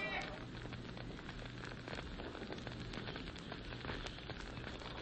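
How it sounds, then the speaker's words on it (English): Fires crackle steadily in a radio drama sound effect, with dense irregular pops and snaps over a low rushing background, fairly quiet and with no voices. "there was no sound other than the crackling of the fires"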